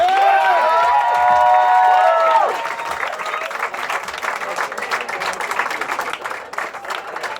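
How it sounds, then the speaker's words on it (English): A live comedy show audience claps and cheers for comedians Big Jay Oakerson and Dave Smith. Bright musical tones ring out over the crowd at first, then fade, leaving sustained applause and scattered whoops. "Ladies and gentlemen, clap it up for Big J Oakerson and Dave Smith."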